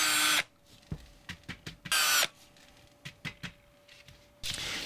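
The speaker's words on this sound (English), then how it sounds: "now we're going to drill out the hole where the line tie is going to screw in" A power drill bores a hole into a wooden mouse-shaped fishing lure in loud bursts, with short whirring runs at the start, middle and end separated by brief clicks and knocks.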